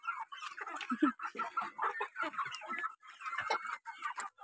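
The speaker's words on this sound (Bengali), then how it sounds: "আর এই যে দেখুন কয়লার মুরগি" Kayla chickens cluck in short, repeated bursts close to the microphone, a busy overlapping chorus of clucks with brief pauses throughout.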